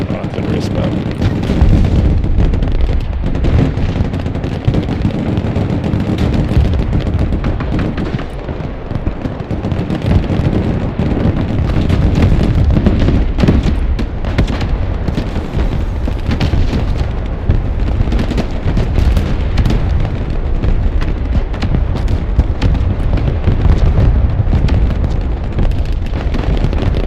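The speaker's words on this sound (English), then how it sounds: "Nice of you to join me in this engaging game of artillery spam." Heavy artillery fire and explosions in a Broken Arrow battle form a dense, continuous rumble of blasts and bursts that never lets up, with talk mixed in underneath.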